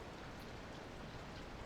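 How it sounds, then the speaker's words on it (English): Steady rain falls throughout, a dense even hiss of drops on surfaces with no pauses, fairly quiet and distant, with no voices. "Well, I guess it's been raining all day."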